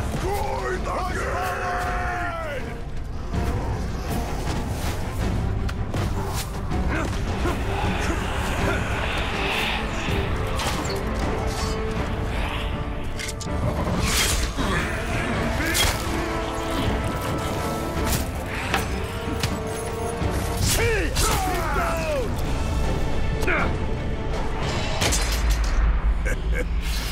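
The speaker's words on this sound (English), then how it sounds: "Destroy the gate!" In Middle-earth: Shadow of War, a gate is smashed down amid a dense battle din of heavy booms, crashes and mechanical groans, with shouting voices over the constant loud roar.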